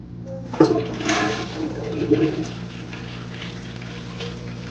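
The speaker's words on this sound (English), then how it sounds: "And then let's do a flush test." A hotel toilet at the Embassy Suites by Hilton Anaheim South flushes close by with a sudden gurgling rush, then settles into a steady hiss of water refilling.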